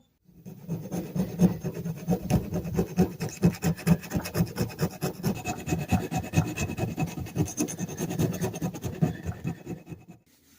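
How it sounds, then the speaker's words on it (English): Steady, rapid back-and-forth rasping of sandpaper on a rusty metal hatchet head, close and continuous for about ten seconds with no talking. "we finished sanding all the surfaces up to 150"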